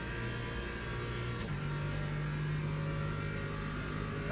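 An LMP3 race car in the Le Mans Ultimate racing game, a steady droning engine note with a whine that rises and holds, loud and continuous without any talk.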